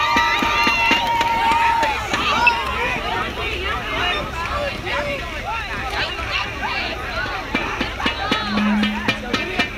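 School pep rally crowd cheering in a large gymnasium-style space, a dense babble of voices and whoops with scattered claps and shouts, steady throughout with a few sharper peaks.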